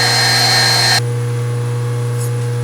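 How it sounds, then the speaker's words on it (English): A metal lathe running in a workshop gives a steady, close mechanical hum with a strong low drone, preceded by a brief louder burst of broadband whirring noise that cuts off abruptly. "Let's move back over to the lathe and see how it works."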